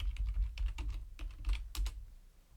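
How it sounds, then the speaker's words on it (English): Rapid typing on a computer keyboard while entering a search term in an online design tool: a quick burst of close, crisp key clicks that trail off after about two seconds. "Now I'm going to type in Milky Way."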